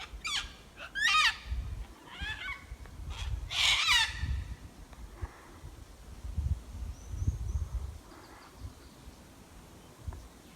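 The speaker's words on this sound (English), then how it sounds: "Bird in that tall eucalypt yelling out to his mate in another tree just to my right." A bird calls loudly from a tall eucalyptus in a dry Victorian park, giving a few harsh, squawking bursts close by, then quieter calls farther off, over soft outdoor rumble.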